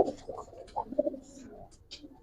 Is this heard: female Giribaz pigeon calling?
yes